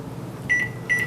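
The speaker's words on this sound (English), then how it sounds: "But these little what are they? Piping bags, pastry bags, they are perfect for the microwave. So what I'm going to do is I'm going to pop that in for 30 seconds." A microwave oven heats a piping bag of candy with a steady low hum, broken by two short, bright electronic beeps close together.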